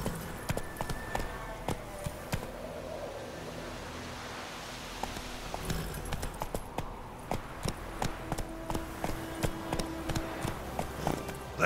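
Horse hooves clip-clopping in an irregular riding rhythm over ground in The Witcher 3: Wild Hunt, steady and moderately close, with rustling movement and a brief voice mixed in.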